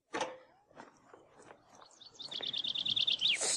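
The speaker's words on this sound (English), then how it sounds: "a little bird tapping at the window" A small bird at a window: soft irregular taps and light knocks come first, then a run of rapid high chirps and tweets builds, close and clear with no talking.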